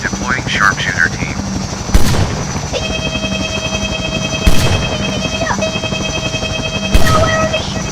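Video game gunfire aimed at a parrot character: three loud, sharp shots spaced a few seconds apart cut over a constant helicopter rotor drone and other game sounds.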